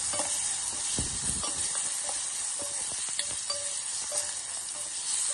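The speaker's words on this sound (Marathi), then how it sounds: "आणि हा कढीपत्ता आणि हे स्टार फ्रूट टाकलेले आहे. हलवून घ्यायचं मस्तपैकी." Star fruit, curry leaves and plenty of asafoetida sizzling in a pan while being stirred, a steady bright frying hiss with soft scraping under it, close and continuous, with no voices.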